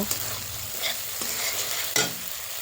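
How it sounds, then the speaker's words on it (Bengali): Turmeric, red chilli, coriander and cumin powders sauté in a hot oiled pan with a steady close sizzle, broken by a few scraping stirs of a spatula; no one speaks. "এবার আমি মশলাগুলোকে সম্পূর্ণ ভালোভাবে কষিয়ে নেব।"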